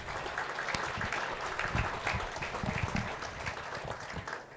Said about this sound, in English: Let's give a quick round of applause to these senior showmen that we have out here today.